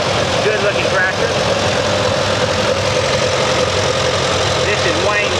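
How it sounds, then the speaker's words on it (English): Antique C Farmall tractor engine idling steadily at a tractor show parade, a continuous rumbling chug with faint crowd and voice sounds mixed in. "Next we have a C Farmall,"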